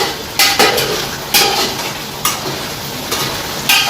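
Crab fry stirred in oil in a pan, with a steady sizzle under repeated sharp clinks of a metal spoon against the pan at irregular intervals, close and loud, no talk.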